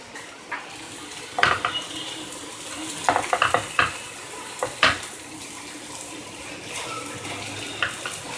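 Sprouts burger cutlets in a pan give a soft sizzle, broken by sharp clinks and scrapes of utensils against cookware, close and fairly loud, with no talk.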